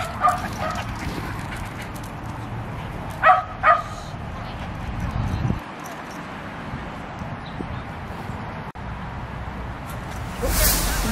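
Several dogs, including puppies, bark and yip in short bursts at a moderate distance at a dog park, with people chatting nearby and general outdoor background noise.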